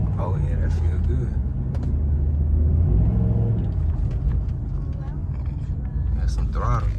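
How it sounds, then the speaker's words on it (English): An Impala SS fitted with a K&N cold air intake rumbles loudly as the throttle is blipped, with a deep engine drone swelling midway while people talk in the car. "So I'm gonna hit the gas a little bit."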